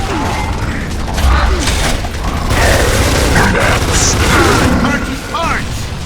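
A frag grenade detonates in the video game Gears of War Judgment, a heavy boom rolling through dense mechanical battle clatter and creaking, with voices calling out over the din.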